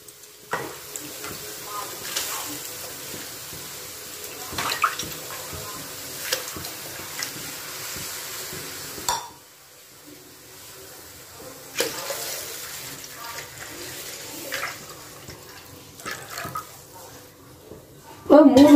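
Water, about one and a half litres, runs into a cooking pot for vermicelli with a continuous hiss and splash across the stretch, broken by brief knocks and pauses while a person talks throughout.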